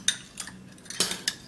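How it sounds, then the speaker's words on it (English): A utensil presses Vaseline into a sugar mix, giving several short, close clicks and scrapes against a bowl in an irregular rhythm, with no talking. "with the sugar mix also, I can actually just press the Vaseline and it will dissolve in."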